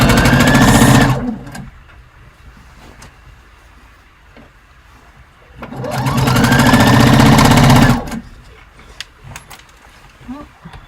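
Home sewing machine stitching fabric in a sewing lesson: two loud, fast buzzing runs of stitching, the first about a second and a half and the second around two seconds, separated by quiet handling of fabric.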